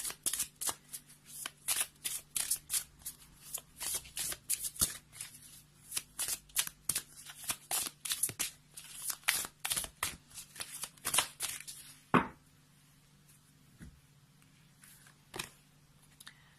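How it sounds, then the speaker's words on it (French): Magical Unicorns oracle cards being shuffled by hand: a long run of quick, crisp riffling flicks, then a pause and a few isolated slaps of the deck, close and fairly quiet. "on va prendre une carte des licornes magiques de Dorine Virtue"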